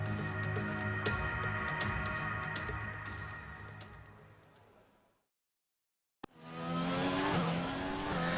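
F1 2020 race car in Mexico during qualifying: a loud, high engine whine with gear changes that fades out to silence, then the engine roars back at full volume, near and steady.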